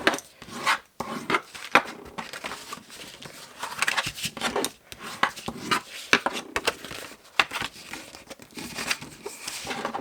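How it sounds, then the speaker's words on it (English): Folded paper on a handmade gift box for candle votives being burnished, a close, continuous scraping and rubbing with irregular strokes and papery crinkles, no talk. "I'm just burnishing everything"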